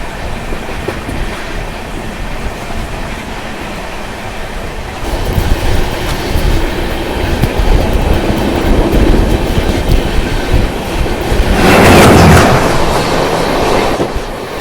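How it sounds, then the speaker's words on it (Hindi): A Shatabdi Express train runs at speed, around 130 km/h after leaving Ludhiana, heard from inside a smooth-riding coach as a steady loud rumble and rattle of wheels, swelling louder toward the end. "लुधियाना से निकलने के बाद ट्रेन की रफ़्तार जो है ना वो 130 की हो जाती है"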